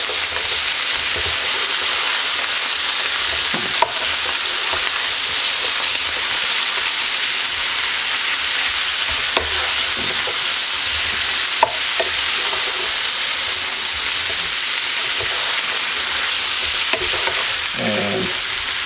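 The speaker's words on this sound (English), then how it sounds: "Now for the rest of this, you're just going to let it cook. Give it a good stir every once in a while." Smoked sausage hash cooking in a pan gives a loud, dense, unbroken sizzle up close, with a few faint knocks and scrapes from occasional stirring.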